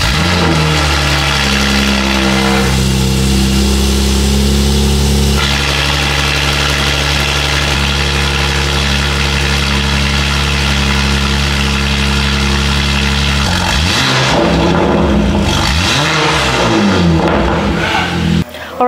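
A BMW G80 M3 fitted with a full titanium exhaust and catless downpipes starts up loud and close, rumbles through a deep, steady idle, then blips into sharp revs and settles back near the end.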